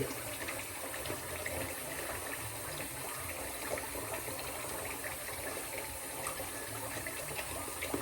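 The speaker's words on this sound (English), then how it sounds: "Let's put some water on it" Tap water running steadily for lathering shaving soap before a straight razor shave, a continuous close gushing hiss with no talk.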